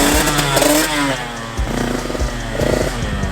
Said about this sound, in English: I'm going to do one more downshift for you guys coming back this way